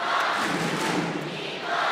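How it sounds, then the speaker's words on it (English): A crowd at a women's volleyball Olympic qualification match between Dominican Republic and Japan cheers and roars steadily in a large arena, dense and loud throughout the two seconds. "Crowd are getting back into this really well"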